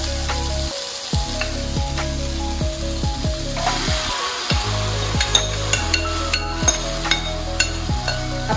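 Mutton drops into a hot frying pan of spicy Laal Maas masala and sizzles loudly and steadily, with repeated clatters and scrapes of stirring throughout.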